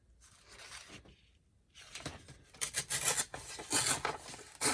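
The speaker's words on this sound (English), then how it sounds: "I'm just going to tear off this edge here." Paper being torn along the edge of a journal page, a close rasping rip that starts softly and builds into louder, ragged tearing bursts.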